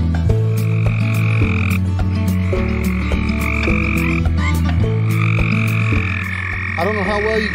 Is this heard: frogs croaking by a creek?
yes